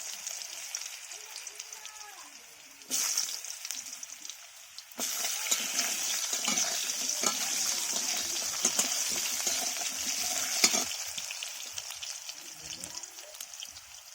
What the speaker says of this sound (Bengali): এইবারে আলুগুলো ভেজে নেব সুন্দর করে